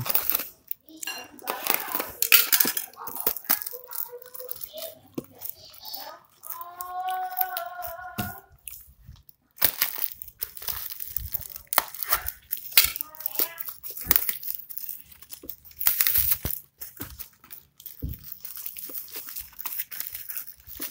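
A package of genuine Honda MPX oil is unboxed by hand, with crinkling plastic, tearing and rustling bursts throughout, while people talk intermittently nearby.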